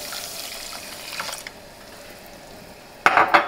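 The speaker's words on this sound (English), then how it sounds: "Let me give it a quick stir here" A spoon stirs polenta and water in a pot, giving soft wet scraping and sloshing, then a louder burst of scraping swirls near the end, with no talk.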